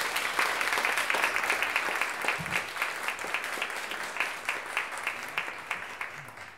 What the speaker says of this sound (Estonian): Aplaus neile ka.